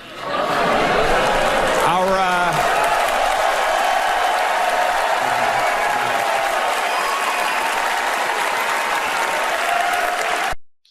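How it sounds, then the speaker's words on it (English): A crowd bursts into sustained applause mixed with some laughter and cheering, steady and dense throughout before cutting off abruptly at the end. "it got some applause"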